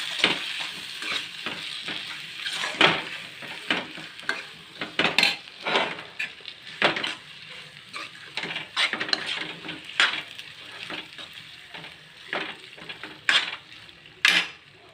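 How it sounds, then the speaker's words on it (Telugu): Gongura leaf mixture stirred in a pan over steady frying sizzle, with frequent scraping clinks of a spoon against the metal, irregular and close, no voices. "ఇప్పుడు దీనిలో అయితే మన గోంగూర వేసేద్దాము."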